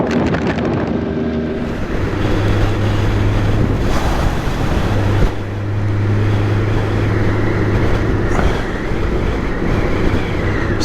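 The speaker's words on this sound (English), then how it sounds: "Some of these gusts we're getting along this road are very strong" Strong wind gusts buffet a motorcycle on a road in Iceland, a loud continuous roar of rushing air with low rumbling engine drone throughout, swelling and easing slightly in waves.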